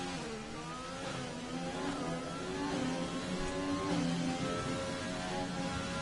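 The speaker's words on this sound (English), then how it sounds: "You can really hear the grip he doesn't have on them rear tyres" A race car at Monaco with rear tyres losing grip, its engine revving in rising and falling sweeps, fairly distant and steady, with no voices over it.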